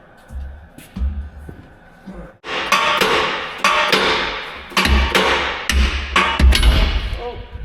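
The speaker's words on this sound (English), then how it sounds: "How about a hammer?" Repeated hard hammer blows ringing on metal while fitting U-bolts on a 1995 Ford F350 truck, a series of loud close strikes with short pauses between them.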